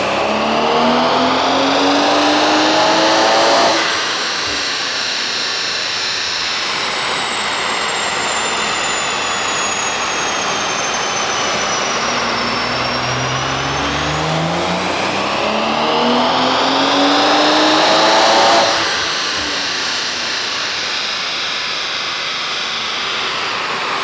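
A 700+ bhp hybrid-turbo BMW M140i engine revs hard and loud, climbing and falling in long sweeping pulls with a whistling, turbo-like whine over a deep roar.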